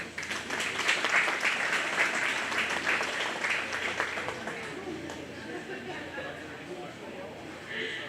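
Spectators at a county fair cattle show applaud a young exhibitor in the Simmental heifer class, a steady round of clapping that gradually thins out, with talk carrying faintly underneath.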